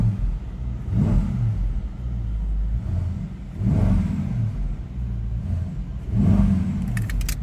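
A 2019 Mercedes-AMG E63 Wagon engine revs repeatedly, three swelling pulls spaced a few seconds apart over a deep, steady idle, close and loud.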